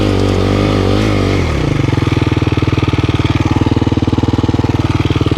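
A dirt bike engine revs hard while its rear wheel spins in place, digging into the ground, a loud close drone that drops from a high rev into a fast pulsing chug and holds steady.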